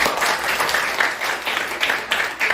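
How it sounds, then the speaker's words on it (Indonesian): Classmates in an Indonesian classroom applaud a student for a correct answer, a lively group clapping with slight surges in rhythm, close and fairly loud, no talking on top. "Tepuk tangan untuk Herlina."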